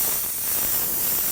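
Spray paint, white, hisses steadily and continuously from an airbrush or spray can, a loud, even rush of air with no pauses.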